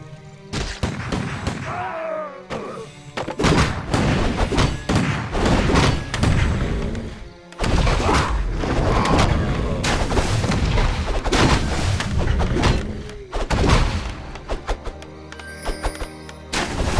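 Warcraft III battle between Human and Night Elf forces on the Last Refuge map, dense and continuous, with loud overlapping weapon impacts, booms, thuds and clashes, and brief lulls between bursts.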